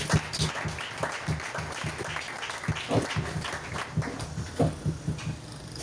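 A church congregation applauding steadily, dense rhythmic clapping from many hands sustained throughout, close and fairly loud.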